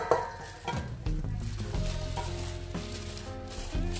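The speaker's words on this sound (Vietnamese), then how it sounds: "Mình sẽ trộn đều để các gia vị nó sẽ được thấm nhé." Octopus and vegetable salad gets tossed with seasonings in a bowl, a steady close wet stirring and squishing with soft clinks, continuous for a few seconds without talk.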